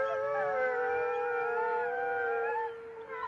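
Several dogs howl together in a sustained, layered chorus of long sliding tones, loud and close, tapering slightly toward the end with no talking over it.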